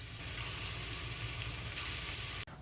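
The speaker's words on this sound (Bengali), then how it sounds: "তেলটা তো আমাদের গরমই আছে। আর একটা ব্যাচ আমি ছেড়ে দিচ্ছি।" Small Bengali masoor dal fritters (phool vada) fry in hot oil, giving a dense, steady sizzle that carries on close and loud without a break until a sudden cut at the end.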